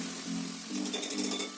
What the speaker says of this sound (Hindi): कुकर में ये ऑयल को अपना जो पेस्ट है इसका टमाटर और प्याज का वो डाल दूँगी इसके अंदर।